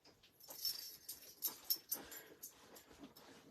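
A dog whimpers indoors with its ball stuck in a clothes basket, giving faint high whines, snuffles and scrabbling bursts that come and go at moderate volume.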